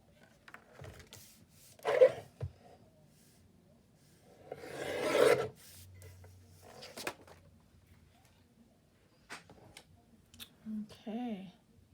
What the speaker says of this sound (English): Bring my cutter up one more time.